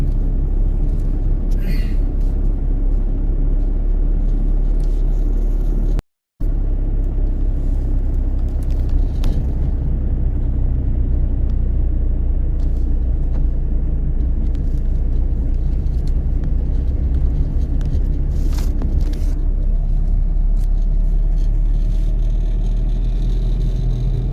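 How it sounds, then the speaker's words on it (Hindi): Car engine during a driving lesson, a continuous close rumble that rises and falls as the driver accelerates and eases off, with a brief dropout near the start. "थोड़ा सा भगा रहे हो फिर रेस दे रहे हो"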